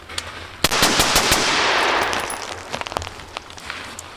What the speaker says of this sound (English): And that's a piston gun right there.